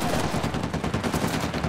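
Dense, continuous gunfire in Uncharted: The Lost Legacy, a rapid crackle of overlapping shots that keeps up the whole time at steady loudness, with no talking.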